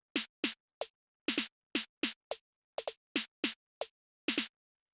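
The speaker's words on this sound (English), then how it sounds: "It's just these little sort of short snares that you hear in a lot of these types of tracks." Short, high-pitched footwork snare sample, played alone as about fifteen crisp, dry hits in an uneven syncopated pattern, some in quick doubled pairs.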